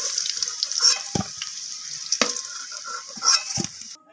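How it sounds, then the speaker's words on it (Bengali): Potato pieces frying in hot oil, browning while being turned, likely alongside cauliflower and egg for khichuri: a steady close sizzle with a few sharp scrapes and knocks of a spoon against the pan. "আলুগুলোকেও এইভাবে আমি উল্টে পাল্টে লালচে করে ভেজে নিচ্ছি"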